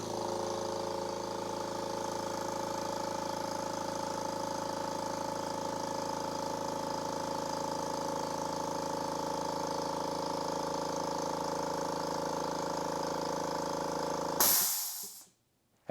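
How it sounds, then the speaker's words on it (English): A California Air Tools quiet 1-gallon air compressor runs with a steady, even motor drone at close range, holding constant for about fourteen seconds before abruptly cutting off into silence. "I am right next to the air compressor, only about a foot away."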